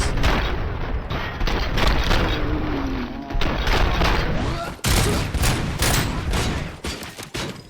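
Rapid gunfire from RoboCop: Rogue City crackles in dense volleys of loud, close shots, with brief pauses between bursts and a chaotic firefight mix throughout.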